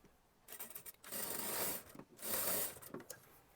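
A sewing machine runs in two sustained bursts while stitching the lining strip of an Anarkali kurti, with short whirring and clicking fabric-handling sounds between them and no talk.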